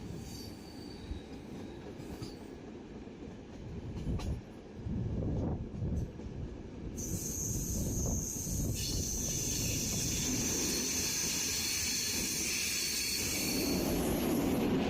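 Night train Lovćen rolls out of a tunnel onto the tall Mala Rijeka Viaduct in the mountains, its wheels rumbling and clattering steadily, with a high metallic squeal rising and holding through the second half of the run.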